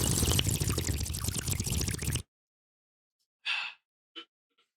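Water pours freely from a freshly opened bottle in a steady rushing stream for about two seconds, then stops, leaving near silence broken by a couple of soft, brief breathy sounds.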